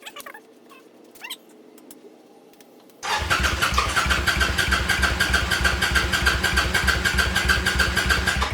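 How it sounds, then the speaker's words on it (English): A cheap motorcycle engine, freshly fitted with a battery, cranks and catches at about three seconds, then runs with a loud, steady, rapid idle chatter close by after a quiet start with faint background noise. "So I'm gonna try to start it and see if it runs."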